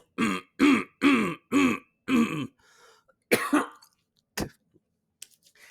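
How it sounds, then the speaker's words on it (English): Five harsh coughs in quick succession during a NASCAR Busch Series race at Charlotte, close and loud, followed by a couple of scattered, fainter throat sounds and short pauses. "Every time I tried to say something,"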